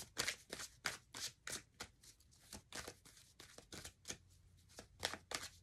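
Tarot cards are shuffled by hand in a steady run of quick, crisp riffling flicks, close and clear with no talking.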